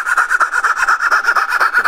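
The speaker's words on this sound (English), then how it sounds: "now I'll use my fret saw, drop down to the bottom, and saw as close to that line as I can get without going below" Rapid, even back-and-forth strokes of a fret saw cutting dovetail waste in wood, close and crisp, about a dozen rasping strokes in quick rhythm.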